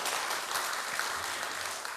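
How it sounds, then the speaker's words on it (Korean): Steady applause from a church congregation at a Sunday afternoon service, dense and continuous clapping filling the whole stretch at a consistent level. "우리 격려의 박수 하겠습니다"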